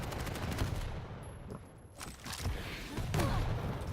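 Rocket launcher fire and explosions in the arena shooter Quake Champions during a competitive one-on-one match, coming as rapid repeated blasts and thumps with brief bursts of game effects.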